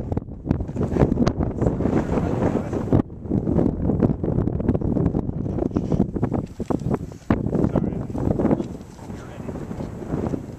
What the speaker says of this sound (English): If this wind doesn't quit, you might have to pry me off this fence